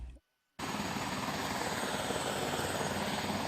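Helicopters fly over the wildfire-damaged Gatlinburg area in a steady, dense rotor roar that starts abruptly after a short silence and keeps up throughout.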